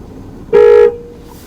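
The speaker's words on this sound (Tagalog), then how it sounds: "Pangalawang honk na yan." A single short car horn honk, loud and close, lasting under half a second against a quiet background.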